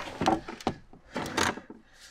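A handle and latch come off a rusty Sierra/Silverado pickup door with a few close plastic and metal clicks and scrapes, in two brief clusters.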